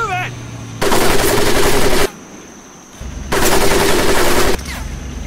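Browning machine guns fire in Medal of Honor: Pacific Assault. Two long, loud, dense bursts of rapid automatic fire are separated by a short pause, and a voice shouts briefly at the start.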